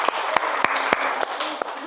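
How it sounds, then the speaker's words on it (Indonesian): Classroom applause for a student, a small group clapping with a few sharp, distinct claps standing out over a soft background wash, brief and moderately loud. "tepuk tangan untuk Rizky ya"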